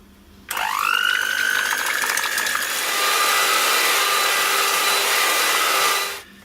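An electric mixer starts up and whirs steadily for about six seconds while creaming an avocado ice cream mixture with maple syrup and mint extract, its pitch rising briefly as it spins up, then cutting off.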